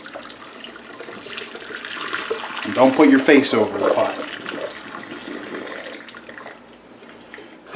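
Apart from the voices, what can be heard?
water being drained from a pot of hard boiled eggs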